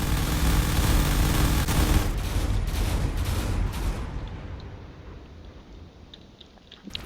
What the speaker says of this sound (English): That battleship is going to continue firing those missiles from range.